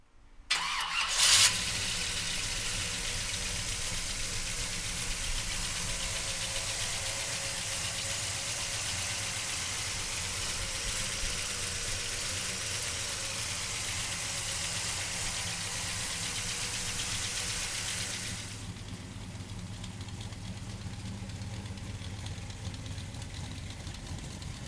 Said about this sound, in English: let's fire this big block up